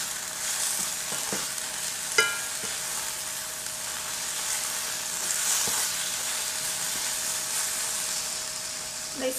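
Vegetables for a veggie quesadilla fry steadily in a pan, a continuous close sizzle with a few stirring clinks and scrapes, and no talking.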